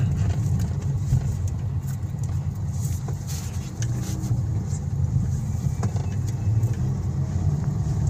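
A 2020 Toyota Vios with a jerking fault, engine warming up with a steady low hum from inside or beside the car, constant and moderately loud, with faint voices murmuring in the background.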